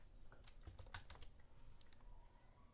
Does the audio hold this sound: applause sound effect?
no